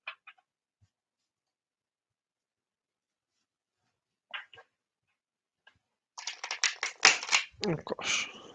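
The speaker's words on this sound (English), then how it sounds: "Oh gosh, that wasn't a very successful shuffle" Playing cards shuffled during a live card-reading stream, a short riffle with flicking, papery bursts near the end after mostly quiet with a few faint taps.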